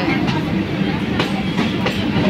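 Rumble and rhythmic clatter of a Howrah–Masagram local passenger train running on the line near Masagram, heard continuously and fairly loud from on board, with a few sharp wheel-over-joint clicks.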